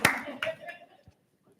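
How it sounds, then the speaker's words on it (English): A short burst of hand clapping at a school board meeting, a few quick close claps that fade within about a second. "It sounded like Lisa's clap, by the way"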